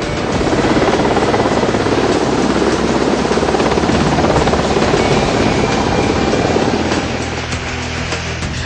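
Kamov and Sea King naval helicopters performing stunts around the warship INS Vikramaditya give a loud, continuous rotor roar that holds steady and eases slightly toward the end.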